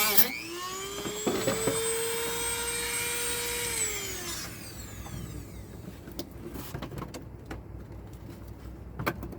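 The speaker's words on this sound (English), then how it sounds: "I'm gonna use my Dremel to get this hole cut out" A Dremel rotary tool cuts a hole in plastic inside a bus. A high, steady motor whine runs for about four seconds, then winds down into scattered clicks and handling noises, close and fairly loud, with no speech.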